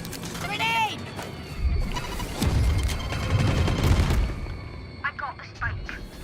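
In Valorant, a grenade explodes with a deep rumbling boom, mixed with bursts of gunfire and short chirping game effects, while a player's voice is heard over the action.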